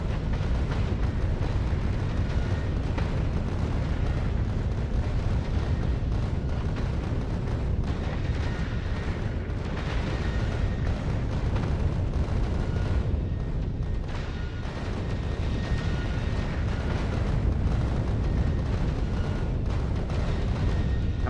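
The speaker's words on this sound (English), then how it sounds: "Rockets are not firing fast enough" Rockets firing and exploding in a video game: a dense, continuous roar of booming blasts and rumbling detonations that holds steady and loud throughout.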